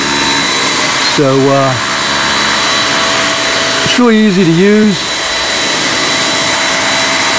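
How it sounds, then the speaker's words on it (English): A Raycop UV light vacuum cleaner runs on a mattress with a constant motor whine, its pitch swooping in two short surges as it moves. A person talks nearby. "usually our cats are just mortified by the sound of a vacuum cleaner"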